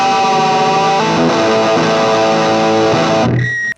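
Loud electric guitar through a distortion pedal, sustained chords shifting a few times before the sound cuts off abruptly.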